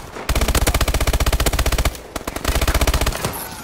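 Rapid automatic gunfire from Call of Duty Advanced Warfare, a loud, close stream of evenly spaced shots that breaks off briefly, then picks up in a second burst.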